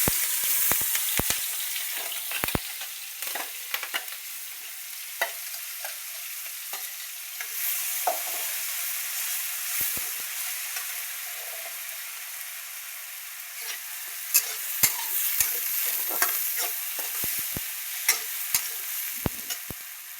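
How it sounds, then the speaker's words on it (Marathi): Cumin and mustard seeds tempering in hot oil, then spiced masala stirred into the pan: a close, continuous sizzle broken by sharp pops and crackles and scraping stirring strokes scattered throughout. "आधी जिरी मोहरी टाकायची बरं का. चांगली कडक फोडणी द्यायची मस्त."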